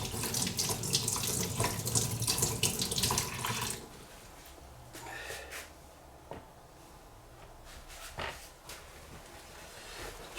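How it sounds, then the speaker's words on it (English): A tap runs strongly into a sink while a sharpening base stone is rinsed under it, then shuts off after about four seconds, leaving quieter drips, clinks and handling noises nearby. "let's wash off this base stone"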